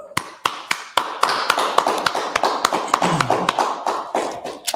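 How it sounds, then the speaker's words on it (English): A small group claps in a loose, uneven rhythm, sharp nearby hand claps landing roughly every fraction of a second for several seconds, with faint murmuring voices underneath. "All right, clap it up."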